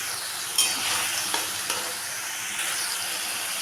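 Spinach being stirred in a pan with fried eggplant and broken lentil dumplings, a steady soft sizzle with scraping spatula strokes, close and moderately loud, no talking.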